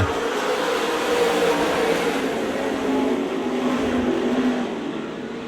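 Race cars in a heat race at the Speedzone track make a continuous, moderately loud roar that holds for several seconds, then eases slightly toward the end.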